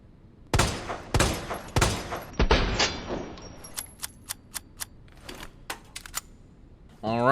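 An MUP handgun fires in Resident Evil 2 Remake, a few loud, sharp shots spaced apart, followed by quieter, faster clicks and a final burst.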